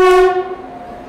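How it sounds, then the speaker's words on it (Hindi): Gitanjali Express passenger train pulling into platform 1 at Akola station, a loud sustained horn blast that opens strongly and fades within about a second. "अभी गीतांजलि एक्सप्रेस आ रही है"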